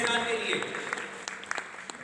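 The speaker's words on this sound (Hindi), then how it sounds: "भरपूर तालियां होनी चाहिए" Audience applause at the grand finale of a Pakistani school quiz competition, a brief burst of clapping with voices mixed in that thins out quickly.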